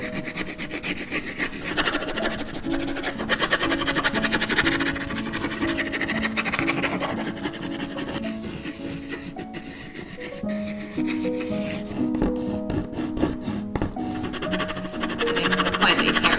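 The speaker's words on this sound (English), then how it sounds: "I'm just scribbling these colors until they get to the wood." Colored pencils scribble hard on paper without pause, making a continuous close scratching and rubbing texture.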